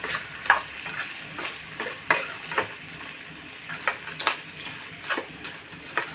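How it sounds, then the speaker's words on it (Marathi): Soaked pigeon pea (toor) dal being mixed in a frying pan, rhythmic scraping stirs of a spoon repeating about every half second over a soft moist sizzle, close and alone without speech. "आता मी जी डाळ भिजवून घेतलेली ती घालून घेते तुरीची थोडीशी भिजत घातलेली आणि आता ती घालून मिक्स करून घेऊया"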